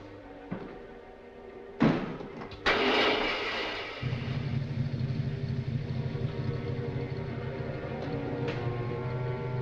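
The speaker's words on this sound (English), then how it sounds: "Start the motor." Vintage car engine from a 1946 film cranking and catching after a thud or two of a door slam, then settling into a steady, close, rumbling idle that continues to the end with no talk.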